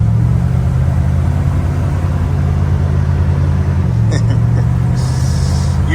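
A 1978 Dodge D200 crew cab long-bed pickup with a 440 engine drives along, giving a loud, steady low engine drone and road rumble with a slight shift in tone near the end.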